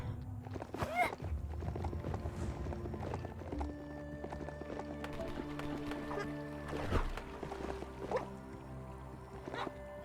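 Horse hooves clip-clopping in the video game Biomutant: a steady stream of hoofbeats over a dense bed of in-game ambience, with occasional louder thuds and animal-like calls mixed in.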